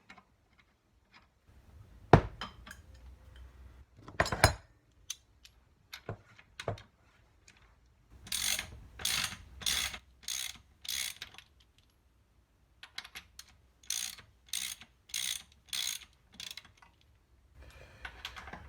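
A wrench works a seized nut on a BSA A70L motorcycle engine, producing scattered metallic knocks followed by runs of quick rhythmic ratcheting clicks in separate bursts, close and alone.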